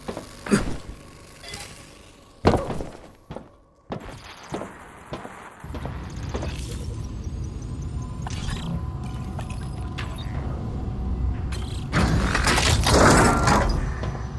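Door unlocking mechanism in the Batman Arkham Shadow VR game: a series of sharp mechanical clunks and servo whirs, then a sustained rising hum of machinery that grows louder toward the end, with no talking.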